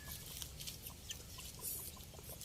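A farmyard hen clucks softly with her chicks while sheltering them beneath her, the low calls faint and scattered against a steady outdoor background with small chirps drifting in and out.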